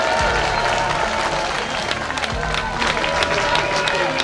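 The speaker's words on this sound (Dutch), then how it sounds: "mag ik uw applaus voor uw nationaal voorzitter Tom van Grieken" A crowd at a Flemish nationalist political rally applauds and cheers for its national chairman, dense sustained clapping mixed with shouts and crowd noise filling the space throughout.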